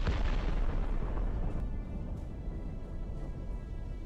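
A Ukrainian FPV drone strike sets off a heavy blast on a Russian armored vehicle: a loud, broadband explosive roar opens the clip and fades into a rumbling, crackling tail, with no voices.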